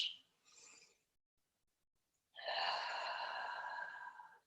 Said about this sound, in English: Celebrate the quality of your breath, the sound of the breath